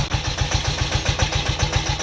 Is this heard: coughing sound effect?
no